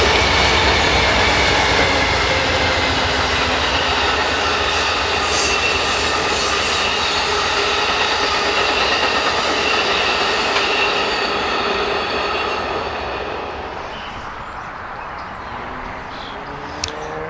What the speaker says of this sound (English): that was the California Zephyr Amtrak heading to Emeryville, California